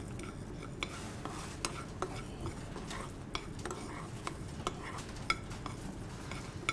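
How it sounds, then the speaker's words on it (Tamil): Poppy seeds and coriander seeds dry-roasting in a pan while a spoon stirs them, making soft, irregular scraping and clinking taps over a low, steady background, with no voices. "இந்த கசகசாவை நம்ம வறுத்து இந்த தனியாவையும் வறுத்து"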